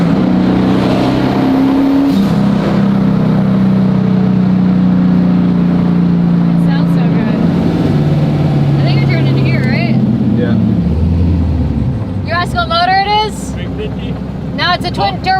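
A barn-find Plymouth Superbird with a twin-turbo 408 V8 and a big cam runs loud and close, its engine note droning and shifting in pitch. Voices talk over it, and sharp chirping squeals come in near the end.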